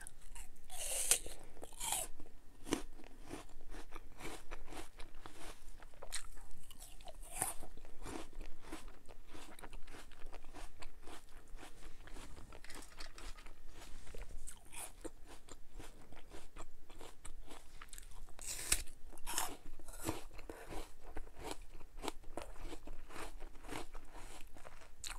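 Bubble Dozer truck-shaped bubble gum candy is bitten and chewed close to the mic. Crisp crunches and snaps repeat steadily against a quiet background, with no talking.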